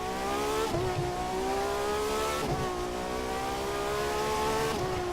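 A Ferrari engine in The Crew 2 racing game drones loudly and steadily, its pitch climbing through the gears with three distinct shift dips, heard alone without any voices.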